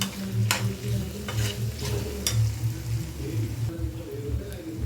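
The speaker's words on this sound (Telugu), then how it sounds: "ఒకసారి కలుపుకుందాం." A spoon scrapes and stirs a potato and tomato curry in a pan, rhythmic clunks over a low sizzle, with a few sharp knocks against the metal.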